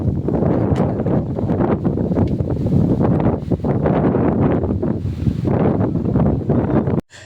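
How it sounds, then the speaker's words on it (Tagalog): Strong gusty wind on a hilltop in Digos buffets the microphone, a loud continuous roaring rush with rustling surges, cutting off abruptly at the end. "Damang-dama ang lakas ng hangin dito sa Digos Hills."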